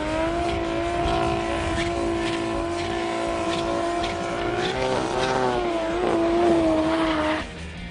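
A 2JZ six-cylinder turbocharged, rear-wheel-drive VW Caddy racing at a raceway, its engine droning at a steady pitch that rises and wavers near the end before cutting off, heard at a distance.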